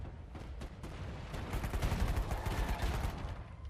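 Dense bursts of rapid gunfire crackle and rumble in the video game Uncharted 4, a sustained volley of overlapping shots with heavy low booms, fairly near.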